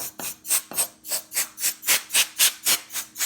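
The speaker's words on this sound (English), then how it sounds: "we'll take our can of compressed air and just" A can of compressed air blasts coffee grinds out of a Baratza Encore grinder in about ten short, evenly spaced hissing puffs, close and loud with no talk.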